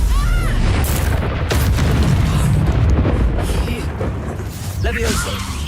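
Confringo fire spell bursting in Hogwarts Legacy combat, a loud rumbling explosion with booming crackle that runs throughout, while a voice shouts over it.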